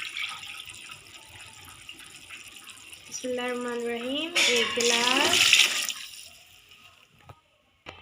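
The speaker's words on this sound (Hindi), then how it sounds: "अब हम इसके अंदर पानी शामिल करेंगे" Water poured from a glass into a pot of matar pulao, a splashing, gurgling pour of a few seconds that stops abruptly, with someone speaking briefly before it.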